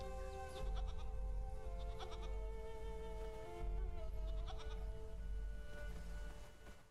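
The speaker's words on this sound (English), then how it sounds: "Can I just, like, convince all of the goats to gang up on her?" Several goats bleat in the video game Titan Quest II, two clusters of wavering, close calls over a steady low game ambience, with no speech.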